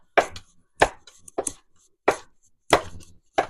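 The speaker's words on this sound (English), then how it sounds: "Just going to give these a rough chop" A knife gives fruit a rough chop on a cutting board for pineapple peach jam, producing about six sharp, distinct thuds at uneven intervals, close and loud against silence.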